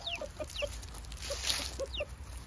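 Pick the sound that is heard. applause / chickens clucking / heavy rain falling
chickens clucking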